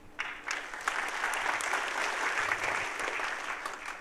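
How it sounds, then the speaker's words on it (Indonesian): Applause from a church congregation during a sermon, a dense wash of many hands clapping that swells quickly and holds steady for a few seconds at moderate distance, with no voices over it. "tepuk tangan dong"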